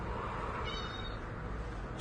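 A pet cat gives a single drawn-out meow over a steady background hum, clear and fairly close.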